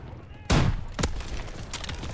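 A Call of Duty: WWII bazooka fires with a sharp loud blast, followed about half a second later by a second sharp report and a lingering rumble.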